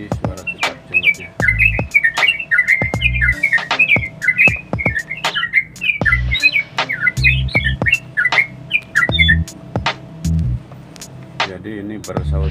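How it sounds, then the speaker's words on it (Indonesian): A cucak jenggot bird calls in a garden setting alongside a trucuk bird. Loud, repeated warbling and whistling phrases sound close by, broken by occasional low thumps. "Nanti kita videokan lagi suara cicak jenggotnya."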